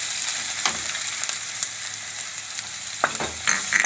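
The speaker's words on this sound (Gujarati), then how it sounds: "અને આ આપણે ડુંગળી નાખી દઈશું." Onion fries in oil with green chillies and curry leaves, a continuous close sizzle broken by occasional stirring scrapes and clicks of a spoon against the pan.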